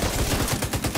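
Rapid gunfire in the video game The Division 2, a quick burst of about eight loud, close shots in steady rhythm lasting around a second.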